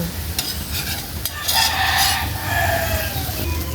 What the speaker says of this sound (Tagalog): Mag-isa ng sibuyas at bawang